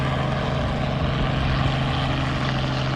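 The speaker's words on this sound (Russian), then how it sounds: "чей-то вертолет летает" A helicopter flies over the Buluus glacier in Yakutia, its engine and rotors making a continuous droning hum with a steady low tone, sustained and fairly loud without pause.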